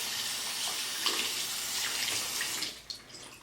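Tap water runs steadily into a sink while a makeup brush is rinsed, a close, even hiss that continues for a few seconds before tapering off near the end.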